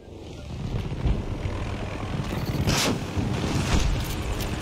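A helicopter in the Battlefield 2042 video game gives a steady, loud rotor and engine roar with a faint rhythmic chop and brief swells, filling the whole stretch with no talk over it.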